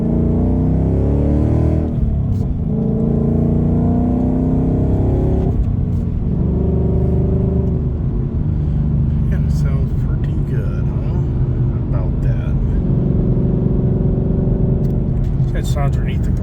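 Steady low exhaust drone from a 2024 Ford Mustang GT with new exhaust while driving, with rises and dips in revs and wind noise; voices speak over it at times.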